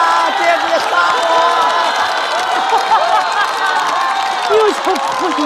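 A stand-up comedy audience applauds, a dense burst of clapping mixed with cheering and whooping voices, loud and sustained throughout.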